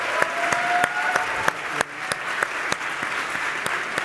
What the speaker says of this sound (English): let's give Kiera a round of applause